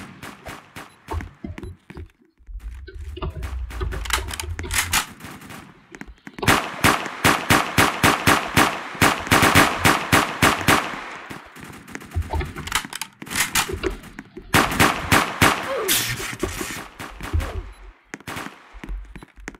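Bursts of rapid automatic gunfire from Roblox Prison Life, loud and repeated in several long volleys with short pauses between them, no talk over it.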